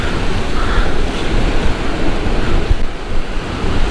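Fast-flowing sea water and surf rush in a loud, continuous roar mixed with wind buffeting the microphone, steady and close throughout.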